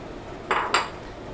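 Two quick clinks of utensils against a small brown bowl while preparing an ice cream treat, sharp and close, half a second apart in an otherwise quiet room.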